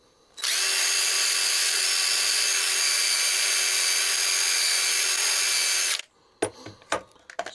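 A drill spinning a wire wheel against rust on a Diacro sheet metal finger brake gives a steady, harsh, high whine for about six seconds, then stops, leaving a few clanks and handling knocks.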